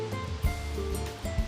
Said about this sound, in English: this 200-foot cascade of water drops down a sharp cliff surrounded by rainforest vegetation.